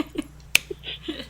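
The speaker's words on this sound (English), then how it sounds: "I'm just giving you a slow clap right now" A single sharp hand clap rings out close and loud in a quiet room while podcast hosts chat about anime, with soft murmurs before and after.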